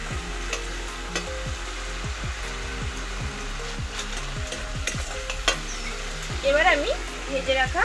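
A Bengali spice masala fries in a kadai with a little water added, giving a busy sizzle under repeated scraping and clacking strokes of a spatula. Faint background noise rises near the end, with no clear speech.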